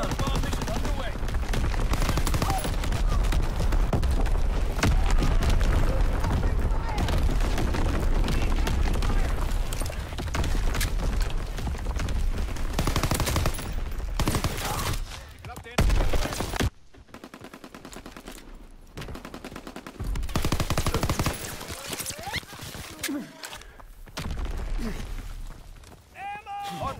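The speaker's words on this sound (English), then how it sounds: "Firing primary battery." An artillery battery in a WWII-era online shooter fires in heavy, rumbling volleys mixed with steady machine-gun and rifle fire, loud at first, then thinning into sparser shots while radio-style voices talk over the combat.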